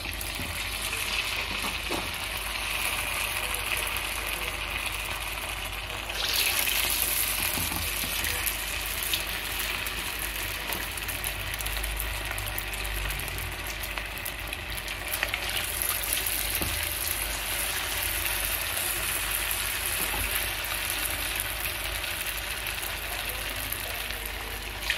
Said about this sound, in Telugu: ఇలా పిండిలో డిప్ చేసి ఇలా వేసుకోవాలండి ఆయిల్లో